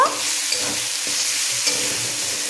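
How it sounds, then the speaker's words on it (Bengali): Potatoes being stirred and fried in masala in a pan for chicken kofta curry, giving a steady close sizzle with scraping stir strokes throughout and no talking. "আলুগুলো দিয়ে মশলাটার সাথে ভালো করে নাড়াচাড়া করে একটু কষিয়ে নেব"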